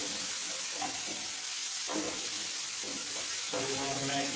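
Onions frying on high heat in a pan, a steady dense sizzle with occasional stirring scrapes rising through it, close and continuous.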